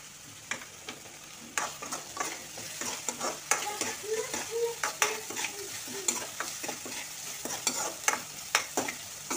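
Onions sauté with a little salt in a pan, with a soft sizzle under repeated close spatula scrapes and stirs in an uneven rhythm.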